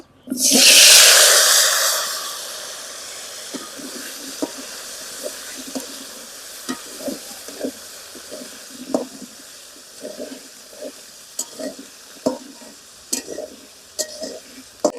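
Potatoes seasoned with salt and turmeric hit hot oil with a loud, hissing sizzle that fades within two seconds. A quieter bubbling follows, broken by scattered clinks and scrapes of stirring.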